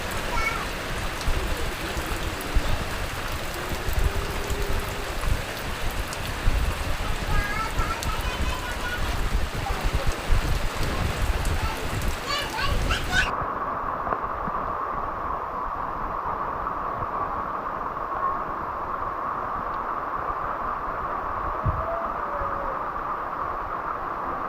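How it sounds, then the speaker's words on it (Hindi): Heavy rain pours steadily, a dense hiss with splashing water; partway through the sound shifts to a duller, muffled downpour with faint voices. "तेज बारिश हो रही है।"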